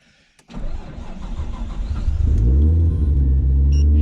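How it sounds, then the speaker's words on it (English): A Nissan R33 with a built, turbocharged RB25DET cranks briefly, then fires and settles into a loud, close idle that swells into a deep rumble, with no talking over it. "now we're going to start the car."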